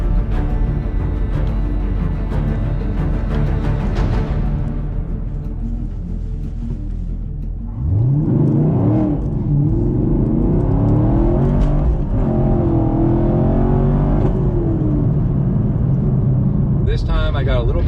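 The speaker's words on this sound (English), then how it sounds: "I'm just going to rev it up just a little bit higher as I'm letting the clutch out" A 2018 Camaro SS 1LE with a manual clutch revs up before a 0-60 launch, then roars loudly as it accelerates hard with rising gear pulls and spinning wheels, heard from inside the car with a voice talking over it.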